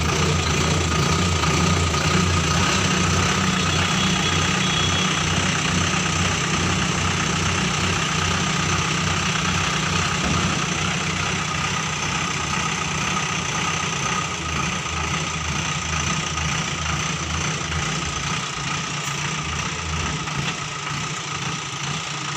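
An Ashok Leyland 1012 IL tipper truck's diesel engine runs steadily while the dumper body is raised hydraulically: a close, continuous low drone and rumble holding an even level for the whole stretch, with no talk.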